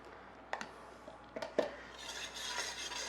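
A spoon stirs pistachio pesto into pasta in a bowl, giving a few soft clinks and scrapes followed by a quieter, wet mixing sound, close and faint.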